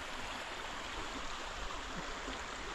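The Popuska river in Strandzha in winter flows with a steady, soft rushing and gurgling, continuous and fairly faint with no voices.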